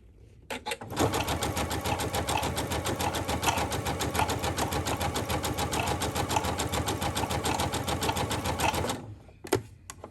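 Sewing machine stitching over a strand of yarn to gather fabric, a fast, steady mechanical chatter running continuously for about eight seconds at close range, then stopping, with a couple of light clicks afterward.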